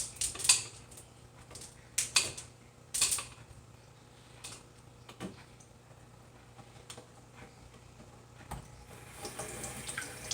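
Small gemstones clinking and rattling together as they are rinsed in cupped hands during house plant repotting, several sharp clicky bursts early on, then quieter trickling and faint handling sounds.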